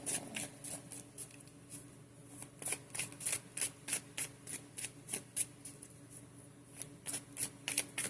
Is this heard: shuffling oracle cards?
yes